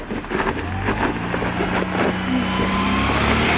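Toyota Tacoma truck engine strains steadily while climbing a steep rock face off road, a sustained close drone with small rises in pitch.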